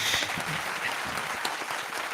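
A small crowd applauds steadily at an anniversary special show, giving dense, even clapping for the whole stretch with no talk over it.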